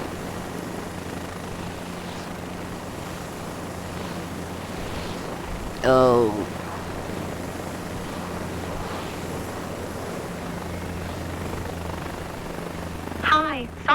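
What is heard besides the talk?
aircraft engine in video game Microsoft Flight Simulator 2024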